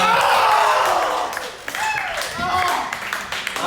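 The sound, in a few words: audience applause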